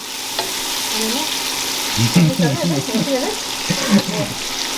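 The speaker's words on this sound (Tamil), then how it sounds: "இது கொஞ்சம் வதங்கட்டும். இது நல்லா ப்ரௌனாக ஒரு கேரமலைஸ்டு ஆனியன்" Onions sizzle and hiss steadily as they sauté toward a caramelized brown for chicken biryani, with stirring scrapes and voices chatting over the frying.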